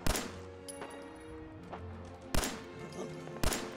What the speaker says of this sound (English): Oh, that's gunfire.